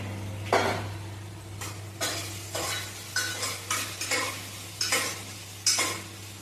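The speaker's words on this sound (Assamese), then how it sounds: "আলমন্ড আৰু কাজু কিশমিশ দি দিছো একে গোটেইখিনি ভাজি লওঁ" Almonds, cashews and raisins fry in ghee in a pot alongside onion and fresh carrot, a steady sizzle under repeated stirring strokes and spoon scrapes against the metal, close and fairly quiet with no talking.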